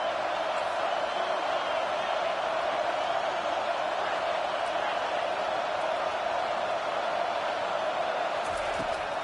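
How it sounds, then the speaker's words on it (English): A college football stadium crowd at a TCU vs Michigan game keeps up a continuous dense roar on third down, loud and unbroken throughout. "Decibels rising as the crowd gets behind this defense on third down."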